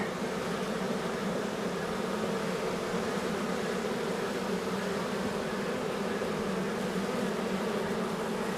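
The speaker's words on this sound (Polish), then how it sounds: "No jest tej osy tu mocno." Wasps swarm around a honeybee hive being checked before winter, making a dense, steady buzzing drone up close that continues without a break, with no voices.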